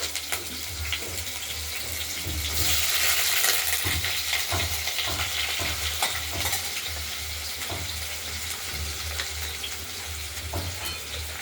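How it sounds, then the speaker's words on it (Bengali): Potatoes fry in a wok of hot oil tempered with cumin, dried chilli and bay leaf, a constant close sizzle with repeated scraping and clinking of the spatula as they are stirred, no voices. "আমরা আলুগুলোকে এবার একটু হালকা করে ভেজে দিই"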